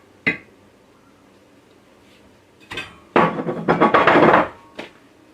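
Cornbread comes out of a cast iron skillet: a single sharp knock, a pause, then a clatter and a dense burst of rattling, scraping metal for over a second, and a final light tap, all close.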